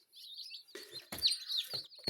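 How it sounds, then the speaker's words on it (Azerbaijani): Newly bought chicks chirp in a cluster of short, high tweets and peeps, bursting in irregular bunches at close range with no talk over them. "Deməli görün necə gözəl cücələrdir"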